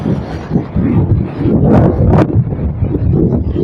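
Strong wind and rough sea waves at Mathagal, a heavy, continuous low roar with buffeting gusts striking the microphone and a couple of brief sharp crests, loud and close.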